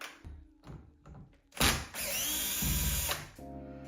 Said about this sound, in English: we're going to be running that Phillips screwdriver out